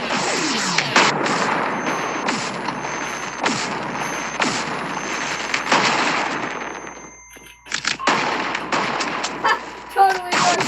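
Gunshots ring out in the VR game Animal Company as loud, dense volleys of rapid shots, with a brief lull before more bursts near the end.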